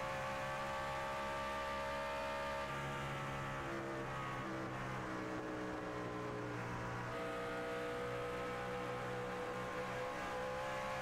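Racing trucks roar around a track, engines droning steadily with layered harmonic whine and sustained revving, moderately distant, with no talk over it.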